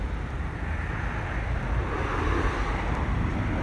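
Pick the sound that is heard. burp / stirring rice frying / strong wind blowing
strong wind blowing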